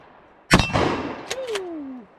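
A Remington 870 pump shotgun fitted with a Carlson replacement barrel fires a single loud, close blast outdoors, followed by a short decaying rumble and faint mechanical clicks as the action cycles.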